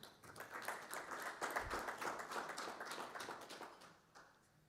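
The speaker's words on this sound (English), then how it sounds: "Please, a round of applause for him." An audience at a Nigeria–Canada energy collaboration panel event gives a few seconds of steady, moderately loud applause, the clapping dense at first and then thinning out.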